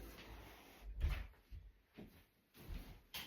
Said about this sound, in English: let me shut that door because you're a little cold in